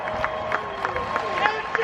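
Stadium crowd noise at Bristol NASCAR driver intros: a short burst of cheering and clapping with scattered shouts, under a loudspeaker voice.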